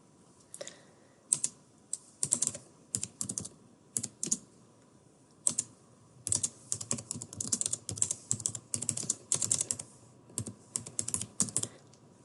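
Typing on a computer keyboard while editing text in Premiere Pro: close, crisp key clicks in irregular bursts and runs, pausing briefly between words, with no voices.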